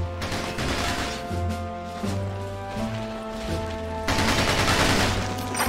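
Gunfire hits target dummies in the Battalion Wars video game, rapid bursts of shots over a steady game music bed, with a louder volley of fire near the end.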